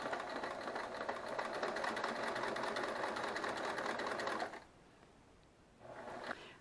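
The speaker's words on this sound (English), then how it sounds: "sew exactly on that line. Just sew right on that line." A sewing machine stitches batik fabric quilt sashing, a fast steady mechanical whir for about four and a half seconds, then stopping, followed by a short burst of stitching near the end.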